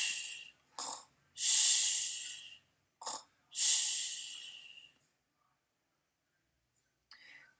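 A storyteller's voice imitates a bear snoring: long, breathy snores alternating with short sniffs, loud and close, followed by silence and one brief final puff.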